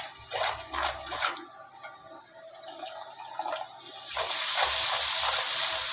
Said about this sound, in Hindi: थोड़ा सा पानी डालते हैं और मसालों की भुनाई करते हैं।